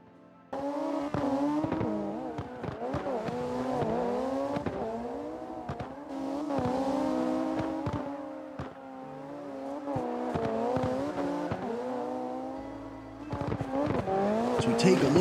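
Drift cars, including a Toyota Yaris, racing at St. Petersburg with engines revving and tires squealing in long howling skids, steady and loud, with brief voices in the background.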